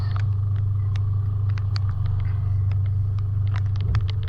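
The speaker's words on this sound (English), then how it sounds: "So we're just trying to maneuver the vehicle so that we can both get turned around." A car engine rumbles steadily nearby while the vehicle maneuvers to turn around on a wet, rainy track, with light pattering and faint ticks over the constant low drone and no talking.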